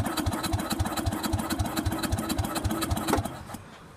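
A rare Craftsman riding mower with a freshly cleaned carburetor idles with a steady, even, chugging putter, close and loud, holding a regular rhythm before tapering off at the end.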